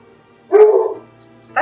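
A dog barks once indoors at home, a short mid-loud woof-like burst followed by a faint low hum, with a brief voice starting at the very end.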